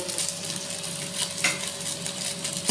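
Spoon stirring hilsa fish-head curry with taro stems in a hot pan, a steady scraping swirl over continuous sizzling, close and fairly loud, with no voices.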